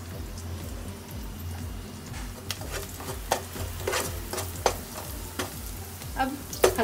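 Onion and spice masala frying for mushroom butter masala with red chilli, green chilli and turmeric, a steady sizzle with scattered scraping stir strokes growing busier toward the end.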